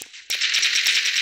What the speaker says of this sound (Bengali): ওকে গুলি করে মেরে ফেলবো